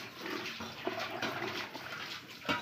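Water poured into a pan of roasted-ground-masala fish curry gives a continuous close splashing, gurgling pour with small irregular bursts, heard on its own.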